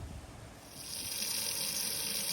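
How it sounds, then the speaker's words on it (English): Tap water runs steadily into a small sprayer container, with a gushing splash that grows fuller and brighter partway through as it fills. The sound is close and continuous, with no talk. "get us some water in this container"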